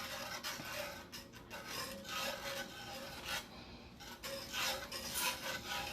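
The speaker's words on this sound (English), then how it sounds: "We found a grater. We found one. But it's more like a zester, so it's gonna take a little bit." Continuous fine rasping of food against a small zester-style grater in a home kitchen while making shrimp Alfredo, a steady scratchy rubbing with uneven strokes, close and moderately quiet with no talk.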